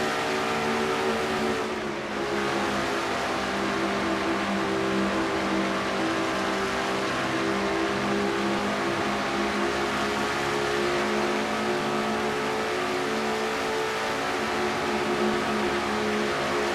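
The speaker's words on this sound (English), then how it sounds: "On board Jessica Shelton's car" An on-board race car engine in a stock-car racing sim at the Mountain Dew Southern 500 drones steadily and loudly at high revs for the whole stretch, with a brief dip near the start and no talking.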